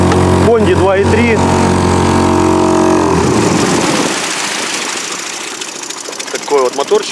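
A small Honda 2.3 outboard boat motor drones steadily and close, its buzzing engine note running throughout while a person's voice speaks briefly over it.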